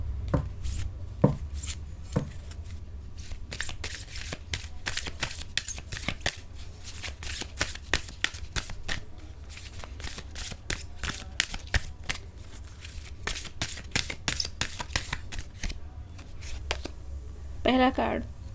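Tarot cards are shuffled and drawn in a series of quick, sharp riffling snaps and slaps, close and fairly loud, continuing steadily for most of the stretch while a person speaks softly over them.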